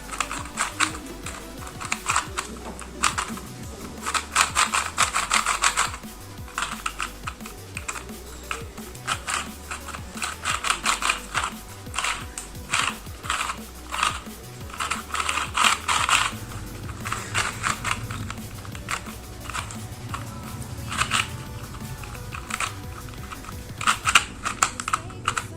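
A cheap Rubik's cube being turned gives dense bursts of quick plastic clicks and rattles in fast irregular runs, close and moderately loud, with short pauses between sequences.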